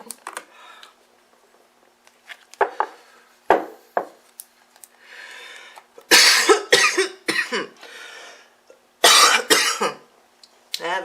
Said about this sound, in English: I just want to cough.